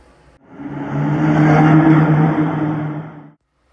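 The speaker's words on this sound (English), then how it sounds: "you can hear that quiet hum of an electric wheel spinning" A steady whirring hum rises, holds for a few seconds, then cuts off, like an electric wheel spinning up and running smoothly.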